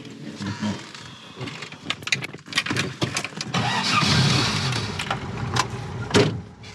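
A VAZ 2107 engine cranks and fires up nearby, its starter churning in bursts before the motor catches and settles into a rough, rising idle, loud and close with no talking.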